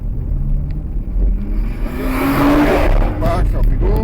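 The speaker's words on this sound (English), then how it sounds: "We're just going to let a car pass up the left off the accelerator first." A car rumbles past on the East Fortune track in East Lothian, its engine swelling close and loud over a few seconds, mixed with a driver's voice speaking.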